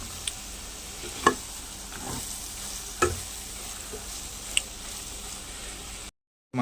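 Cauliflower egg masala curry simmering in a pan, with a steady soft sizzle broken by a few sharp clinks and scrapes of a spoon, close and quiet, cut to silence near the end.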